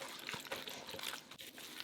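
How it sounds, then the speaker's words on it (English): Infused water poured into a bowl of pork wonton filling made with pepper, soy sauce, oyster sauce, Shaoxing wine and cornstarch, giving a soft, steady trickle with faint splashy bursts throughout. "Pour in about half of the infused water and mix well."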